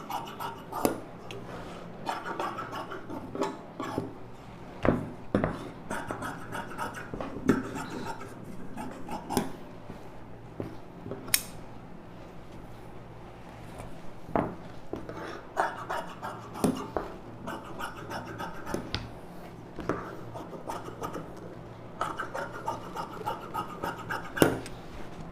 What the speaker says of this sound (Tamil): இது இந்த அளவுக்கு அப்படி கிராஸ் வச்சு கட் பண்ணிக்கலாம்.